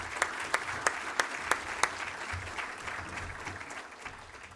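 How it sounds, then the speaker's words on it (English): Audience applause in a conference hall welcoming two gentlemen to the stage, a steady wash of clapping with a few sharp louder claps early on, gradually thinning toward the end. "join me in giving these two gentlemen a warm welcome of applause"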